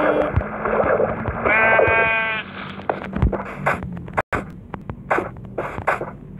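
A Minecraft sheep lets out a loud wavering bleat amid game sounds, followed by a string of short clicky taps and thuds as the animal is struck and dies.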